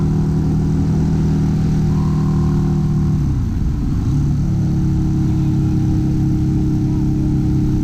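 A Harley-Davidson V-Rod motorcycle drones loudly and steadily at close range while overtaking on the road, with a brief dip in engine pitch midway before the pull resumes.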